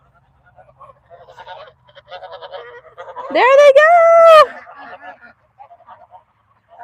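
Ducks herded home at evening chores on a small farm give a loud, drawn-out honking quack for about a second mid-clip, with a person talking before and after.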